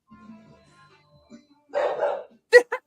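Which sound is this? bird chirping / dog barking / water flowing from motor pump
dog barking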